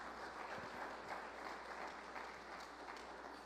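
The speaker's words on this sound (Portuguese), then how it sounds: "as palmas para Ele nessa noite" Church congregation applauding in a sustained, even wash of clapping, moderately distant and soft, continuing without pause.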